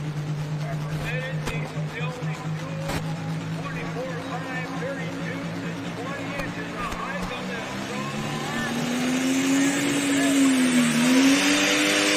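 A 10,000-pound Pro Stock pulling tractor roars through a pull, its loud engine droning steadily before climbing in pitch and swelling louder toward the end.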